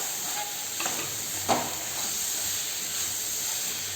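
Mushrooms sauté in a pan for a white kurma, giving a constant close sizzle and hiss broken by a few scraping stirs, one sharper scrape in the middle.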